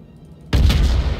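A naval gun blast booms in the World of Warships game, a sudden loud broadband shot breaking over a low engine rumble and ringing on in a dense wash.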